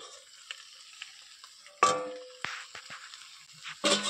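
A Bengali fish-head muri ghonto is stirred in a pan over a soft sizzle, with a few distinct metallic scrapes and clinks of the spoon against the pan at intervals.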